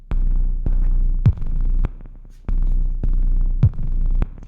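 A Make Noise Dark Easel synthesizer drones in a loud, steady low throb, pulsing in a monotonous hypnotic rhythm with sharp clicks marking each repeat, no voices.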